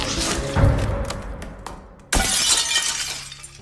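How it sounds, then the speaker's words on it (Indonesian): Window glass is smashed in two separate crashes, a loud shattering hit followed by a second, sharper burst of breaking glass about a second and a half later, with scattered debris noise between them. "langsung memecahkan kaca jendela"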